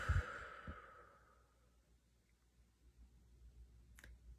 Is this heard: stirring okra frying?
no